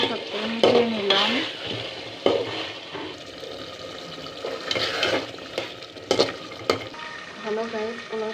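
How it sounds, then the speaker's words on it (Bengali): Potatoes are stirred into cooked-down beef in a pot for biryani, with scraping and clinking of a spoon against metal over a low sizzle and a few watery bubbling sounds, close and uneven. "আলুগুলো মাংসের সাথে মিশিয়ে নিলাম।"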